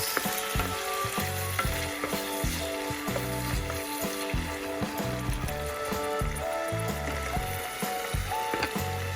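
Tomato frying in hot oil for a Mexican dish, a loud, busy sizzle and crackle with repeated stirring and scraping of the pan and no talking.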